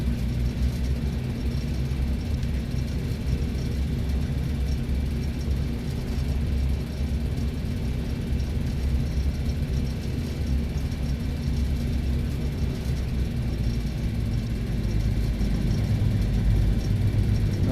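A 1974 Aerostar 601P twin-engine plane in a flight simulator taxis toward the runway, its engines giving a steady, droning low hum at idle that holds even and continuous throughout with no talk over it.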